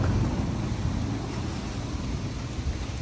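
Steady, blustery cold wind in the UK roars across the microphone, a dense low rumble with no pauses and no voices.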